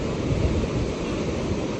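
Small waves wash steadily onto Appikonda beach, a continuous near rush of surf with a light wind hiss and no talking.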